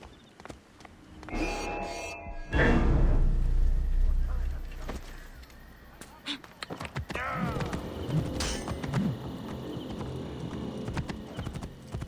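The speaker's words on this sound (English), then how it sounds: "I should find a horse." Horse hooves clip-clop in a steady rhythm, loud and close, with a brief whinny and other game sounds mixed in, in Assassin's Creed: Origins.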